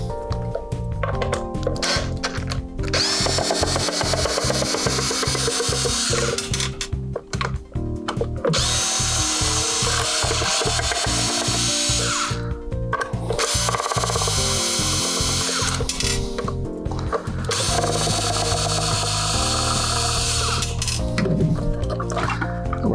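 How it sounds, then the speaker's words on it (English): A power driver backs four screws out of an Ion Pro Wave unit, whirring in several long bursts with brief pauses between them, loud and close. "You just remove these 4 screws. So I'm going to do that here."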